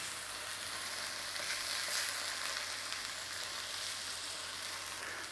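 Sliced onions frying in a pan for mushroom and halloumi burgers, a constant close sizzle and hiss that holds evenly throughout, with no voices over it.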